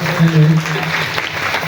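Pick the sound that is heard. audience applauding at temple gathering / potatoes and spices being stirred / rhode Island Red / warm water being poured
audience applauding at temple gathering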